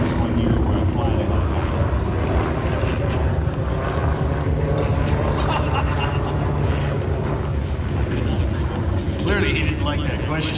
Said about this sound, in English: I think because he's setting up to flip the helicopter forward.